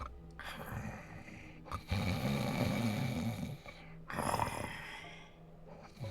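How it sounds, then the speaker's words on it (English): Loud, raspy snoring from a video game character, with long rough breaths in and out heard up close in repeated cycles and short quiet gaps between them. "How long did they record this snoring sound?"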